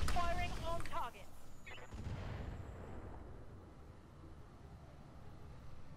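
Weapons fire at mechs in the BattleTech mod Roguetech: a few booming shots and blasts early, then a low rumbling wash of explosions trailing off at moderate loudness, with a voice briefly at the start.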